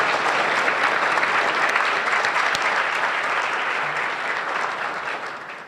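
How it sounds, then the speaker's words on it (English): A room full of City Club members in a warm round of applause, a loud, dense and even roar of clapping that holds steady, then tapers slightly at the end. "Please join me in a warm round of applause for all of you."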